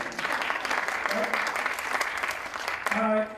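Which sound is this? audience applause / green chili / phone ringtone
audience applause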